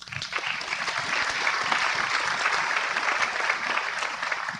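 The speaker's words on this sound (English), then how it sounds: "and I think we should applaud them." Sustained, dense audience applause fills the hall at the opening of a global biodiversity summit. It is steady and full throughout, with no clear voices on top.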